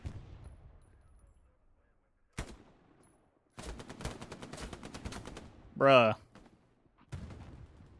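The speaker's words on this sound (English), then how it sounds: "Loud gunshots." Gunfire in a video game, with a sharp shot early and a dense burst of rapid shots in the middle, set against faint background sound, and a short spoken exclamation near the end.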